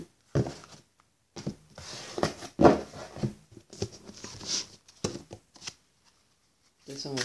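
A deck of tarot cards shuffled by hand in repeated short riffling bursts separated by pauses, close and crisp, with speech between them.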